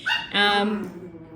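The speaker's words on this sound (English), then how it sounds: "they were both barking and crying at the door, like non-stop." Two dogs whining and crying at a closed door, a close, loud high-pitched whimpering cry that rises and trails off, with no talk.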